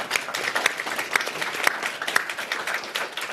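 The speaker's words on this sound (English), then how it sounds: "If we could give them a round of applause" An audience at a university science panel event gives a round of applause for the panelists, dense, steady clapping with scattered sharper hand claps throughout.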